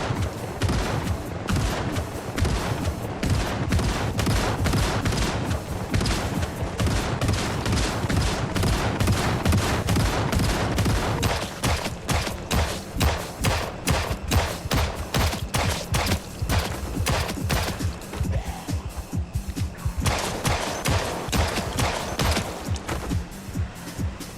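Rapid shotgun blasts fired at a zombie horde in the survival game Project Zomboid, a dense, loud barrage of overlapping gunfire booms with no letup, thinning slightly in the later stretch.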